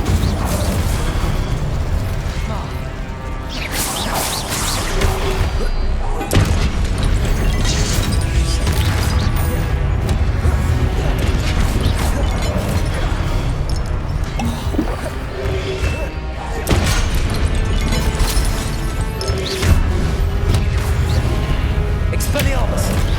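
Fiery spell blasts go off during a Hogwarts Legacy battle, heavy booms and crashes recurring among dense, loud combat noise, with spoken spell incantations heard throughout.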